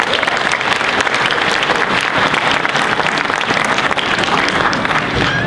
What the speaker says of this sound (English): Let us give a big applause to that success.